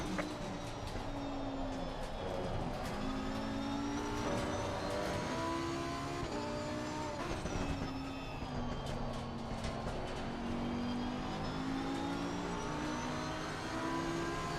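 Race cars from Assetto Corsa Competizione roar steadily on track, several engines overlapping with rising and falling revs as cars pass and exit the pits, a continuous loud mechanical drone with no talking.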